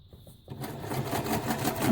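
A sewing machine stitching fabric ruffles starts up after a brief quiet moment, then runs in a quick, steady mechanical chatter, close and growing slightly louder.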